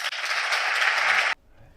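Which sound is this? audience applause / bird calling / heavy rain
audience applause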